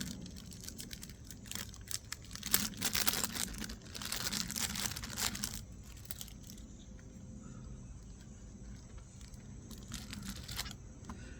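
Peel flap being pulled open on a razor package during an unboxing, producing crinkling, tearing bursts that are loudest in the first half and then taper into quieter rustling and faint handling noises.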